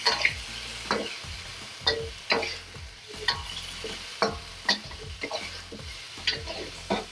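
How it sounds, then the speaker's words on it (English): Wheat gluten sears in a hot pan, a close steady sizzle broken by repeated sharp scrapes and clacks of stirring at a regular pace, with no talking. "And I'm just gonna drop in my wheat gluten. And the whole point of doing this is to just add a nice sear and color"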